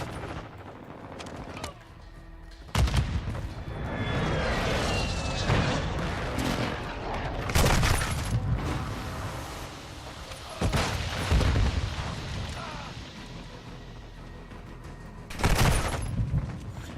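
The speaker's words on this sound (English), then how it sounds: "Enemy precision airstrike." Precision airstrike explosions and gunfire in a first-person shooter video game: repeated heavy booms land near and loud at irregular intervals over a constant rumble of battle noise.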